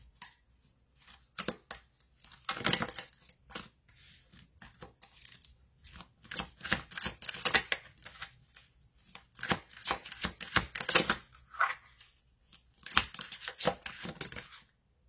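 A deck of tarot cards is shuffled by hand before a reading. Close, papery riffles and slaps come in irregular bursts with short pauses between them, and no one speaks.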